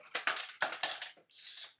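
Spilled metal screwdrivers clatter and jingle close by in several quick bright bursts, settling into a short metallic ring at the end.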